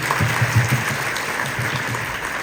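Continuous applause from a school group, a dense wash of clapping that holds steady throughout with no pauses.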